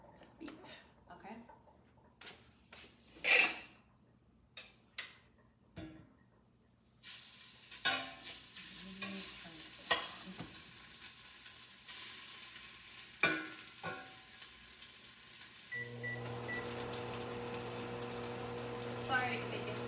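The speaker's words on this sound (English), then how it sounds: "now that our oil is nice and hot, we are going to sear this beef" Beef sears in hot oil in a pan for stew. A few quiet clinks and handling noises come first, then a loud, steady sizzle starts partway through and keeps going to the end.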